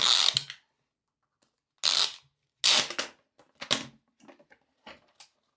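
Sticker tab peeled and cardboard packaging slid off a new Amazon Echo Show smart display: several short, close bursts of papery scraping and rustling separated by silent gaps, with no voices.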